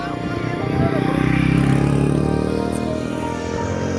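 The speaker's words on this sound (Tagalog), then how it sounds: "Yun, ingay ng motor." A motorcycle engine drones nearby, its pitch and loudness swelling toward the middle and then easing off as it passes over a few seconds.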